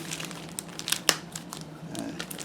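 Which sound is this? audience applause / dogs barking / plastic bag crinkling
plastic bag crinkling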